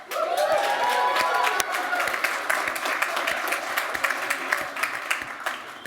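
An audience at the Sony A9 camera launch applauds and cheers, a dense burst of clapping with whoops at first that thins into scattered claps toward the end.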